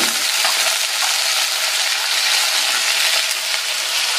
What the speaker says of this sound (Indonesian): Kuah seblaknya sudah mendidih, langsung masukin sayurannya.